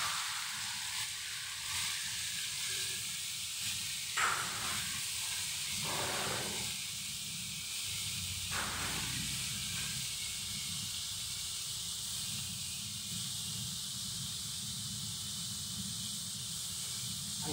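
Carrots hiss and sizzle in hot frying oil at a roadside food stall, a continuous bright crackle with brief dips as the pieces go in.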